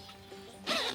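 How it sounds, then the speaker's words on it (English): A short, sharp zip of a zipper being pulled near the microphone, following a moment of quiet handling. "There's another zipper here"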